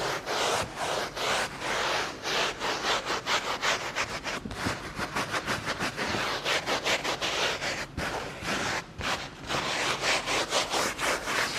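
A brush scrubs the mold-affected carpet of an AP2 Honda S2000 in quick, rhythmic back-and-forth strokes, close and raspy, continuing steadily with no talking.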